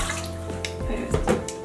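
175 ml of tepid water pours in a short, close stream, splashing and gurgling into a bowl for dough, with a low hum running underneath.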